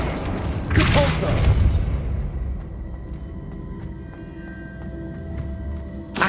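A Depulso spell in the Hogwarts Legacy video game lands with a loud, deep boom and thump early on, followed by a fading rumble and quieter game ambience.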